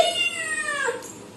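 A single drawn-out cat meow, close and clear, with a rising then falling whine that fades out near the end.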